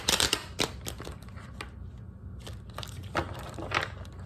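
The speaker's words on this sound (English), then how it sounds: "one more shuffle, please." A tarot card deck being shuffled by hand: crisp riffling bursts and papery flicks, loudest at the start and again near the end, with a brief lull in between, close and fairly quiet with no talking.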